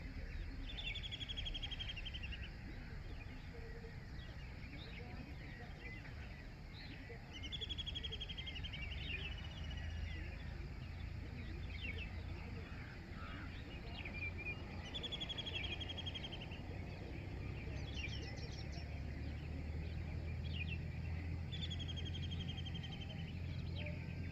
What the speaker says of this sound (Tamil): நல்ல ஒரு குருவிகளின் சத்தம் பின்னாடி